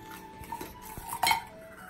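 Waffle batter is stirred in a bowl, with a utensil scraping and clinking against the sides in a few irregular taps, including one sharper knock near the end, all close and fairly quiet.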